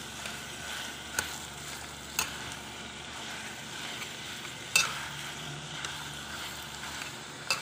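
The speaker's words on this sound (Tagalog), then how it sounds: "ilagay ko yung marinate na giniling" Marinated ground meat for spaghetti sauce fries in a pan with a soft, steady sizzle, broken by a few sharp clacks of a spatula or spoon stirring against the pan.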